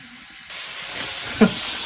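Chopped onion hitting a hot pan for Ilokano-style dinuguan, a sudden broad sizzling hiss that starts abruptly and holds steady, close and fairly loud with no talking.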